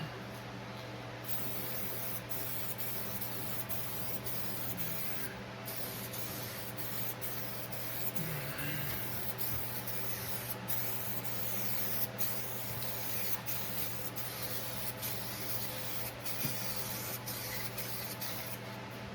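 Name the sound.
spraying Pro 15 protective coating from a spray can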